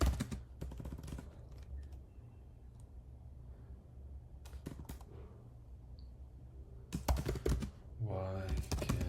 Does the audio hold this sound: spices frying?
no